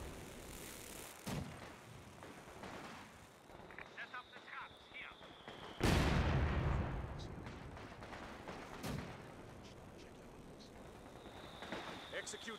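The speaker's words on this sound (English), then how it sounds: "They're shooting a mortar." Mortar firing in the World War II strategy game Company of Heroes, a heavy thumping blast with a long rumbling tail amid scattered battle noise and distant shots, with a few sharp reports later.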